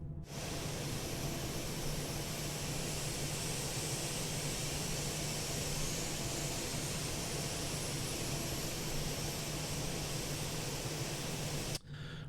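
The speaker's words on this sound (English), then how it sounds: "All the engines are starting up." Steady, broad jet roar from a KC-135R Stratotanker's engines starting up in Microsoft Flight Simulator, a constant whooshing hum with a low drone and a thin rising whine, unbroken for about twelve seconds.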